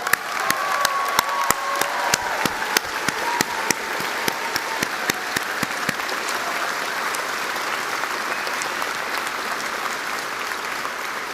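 Sustained audience applause for graduates at a university Encaenia convocation ceremony, a dense wash of many hands with a few sharp claps standing out early, loud at first and then settling to a steady even level before easing.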